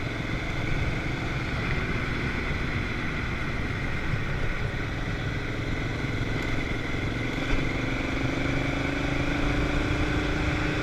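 Honda Africa Twin adventure motorcycle riding off-road on a Scorpion Rally knobby front tyre, its engine droning steadily and loudly for the whole stretch under heavy wind rush, with a slight rise in pitch toward the end and no talking.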